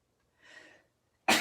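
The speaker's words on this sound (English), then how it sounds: "Ooh, I might sneeze." A single person sneezes once, a short breathy burst preceded by a quiet inhaling build-up, in an otherwise silent room, followed by a loud abrupt noise at the end.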